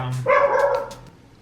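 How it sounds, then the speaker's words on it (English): Dogs let out a single loud, close bark, followed by a brief fading whine, as they bark at a cat in a house. "I think they're barking at the cat."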